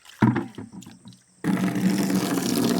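Muddy water flows out: a few intermittent splashes and trickles at first, then a steady, close rush of pouring water.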